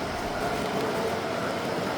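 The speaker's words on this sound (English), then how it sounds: "there's 10 trains running on it" Model trains running on a 10 by 30 foot layout at a train show, ten trains at once, giving a steady, dense rolling rumble and faint clicking that carries on without a break through a busy hall.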